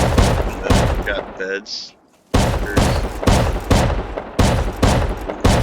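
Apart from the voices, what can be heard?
shotgun traps firing buckshot in a video game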